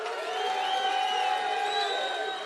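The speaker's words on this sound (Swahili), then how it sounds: "pigeni makofi" A crowd at a Kisumu youth gathering with lawmakers cheers and whoops steadily, with broad sustained crowd noise and some voices rising above it for the whole stretch.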